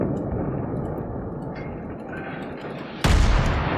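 Naval artillery fire in the warship battle game World of Warships, a steady low roar of engine and sea noise broken by one sudden loud cannon blast near the end.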